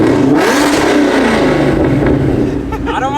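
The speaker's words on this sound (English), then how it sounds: "That supercharger and exhaust. Yo, that is so loud." An 850hp supercharged Ford Mustang engine roars loud and close, revving hard with blaring exhaust and supercharger whine, a voice talking over it.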